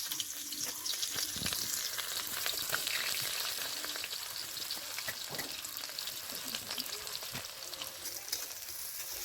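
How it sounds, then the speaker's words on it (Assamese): Onions frying in hot oil with cinnamon and cardamom in a wok, a steady, dense sizzle and crackle throughout, close and fairly loud, with no talking. "ভাজি ল'ব পিঁয়াজখিনি ভালদৰে।"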